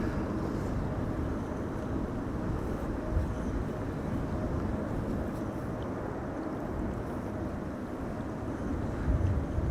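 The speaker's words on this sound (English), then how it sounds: "A350 in the background. Arriving from Mumbai" An Airbus A350 arrives at Amsterdam Schiphol Airport during Storm Amy, heard as a distant, steady broadband roar blended with gusting wind across the whole stretch, with no voices.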